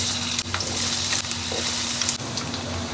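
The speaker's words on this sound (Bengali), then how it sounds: "তেজপাতা, দারচিনি, জিরে আর এলাচ একটা ফাটিয়ে ফোড়নে দিয়ে দিলাম। দিয়ে দেবো ডুমো ডুমো করে কেটে রাখা আলু।" Diced potatoes drop into hot oil already tempered with dried red chili, bay leaf, cinnamon, cumin and cardamom, giving a loud, dense, continuous sizzle close up, with a few stirring clicks and scrapes; no talking.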